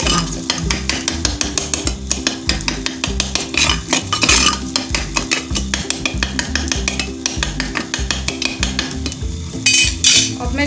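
Brain masala is stir-fried and mashed on a high flame in a clay pot, a spoon scraping and clattering in a fast repetitive rhythm under a loud sizzle, close up and continuous.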